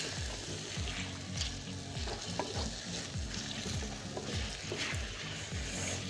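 Ground garam masala and dried coriander are stirred into a frying chicken korma, a steady sizzle broken by a rhythmic series of scraping spoon strokes against the pot.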